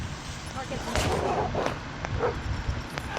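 A dog barks a few times amid Call of Duty: Mobile gunfire and explosions, with scattered bursts and a constant busy background of battle noise.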